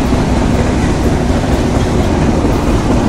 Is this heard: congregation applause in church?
no